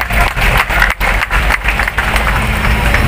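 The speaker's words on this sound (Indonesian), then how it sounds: "Tepuk tangan." Crowd applause at a political declaration rally for regency candidates in Serang, Banten, a loud dense wash of clapping that stays steady throughout, with a few sharper claps standing out.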